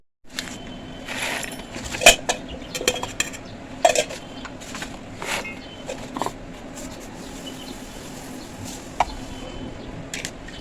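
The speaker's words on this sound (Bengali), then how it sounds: "মিক্সারে বাটিতে সব মশলা দিয়ে দিচ্ছি।" Whole spices, cashews, raisins, poppy seeds and ginger going into a mixer grinder bowl in a home kitchen, heard as a run of close clinks, rattles and metallic knocks with a few sharper taps, no talking.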